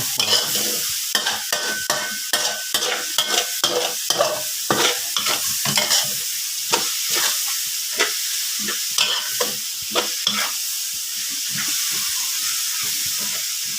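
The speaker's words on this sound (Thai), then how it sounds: "ผัดให้แห้ง" Frog pieces stir-fried in a pan with leaves and fresh bird's eye chilies, a steady loud sizzle broken by repeated scraping stirs of the spatula, close and continuous with no talking.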